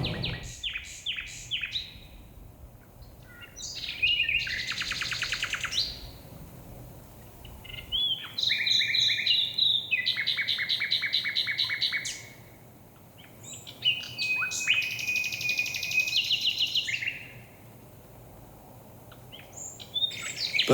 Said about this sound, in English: Birdsong in spring is all about advertising for a mate and proclaiming territory.